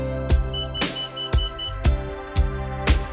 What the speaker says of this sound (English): Then I set the beeper on a 2-position switch.